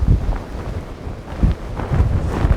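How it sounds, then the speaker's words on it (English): Gusty wind buffets the microphone on a moorland hilltop at the Roaches, rumbling low and uneven in loud surges that rise and ease over a few seconds, with no voices. "getting windy"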